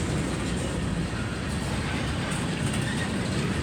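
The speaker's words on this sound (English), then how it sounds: "This is a long train." A long freight train passes at a railfan spot in Irondale, a loud continuous roar of rolling wagons and rail noise, close by and unbroken, with no talk.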